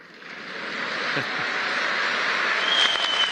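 An audience at a political speech breaks into steady applause, a dense wash of clapping that swells and holds loud for a few seconds with no talk over it.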